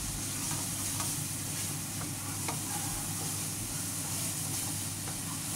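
Bacon frying in a pan while being stirred, a steady dense sizzle with soft scraping and stirring textures throughout, fairly close and continuous with no talking.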